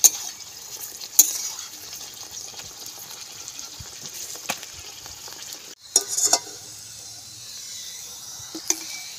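An aloo paratha fries on low flame in a pan, giving a soft, steady sizzle with occasional sharp clinks and scrapes from a spatula as it is turned.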